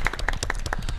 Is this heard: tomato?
no